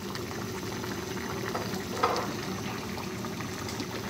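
Mutton boils with oil in a karahi, giving a steady, close bubbling and sizzling hiss that runs unbroken, with one slightly louder pop partway through.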